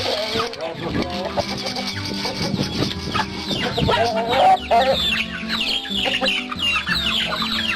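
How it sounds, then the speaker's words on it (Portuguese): Chickens at an old sugar mill estate in Pernambuco, several hens clucking and squawking close by in overlapping bursts, with a rooster among them and a person speaking faintly in the background. "Então são galinhas tiradas aqui, como vocês viram, aquela galinha chocando"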